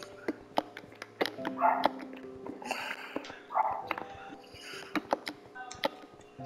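A Minecraft dog yips and whimpers in short bursts at moderate distance, mixed with scattered clicks and tapping noises.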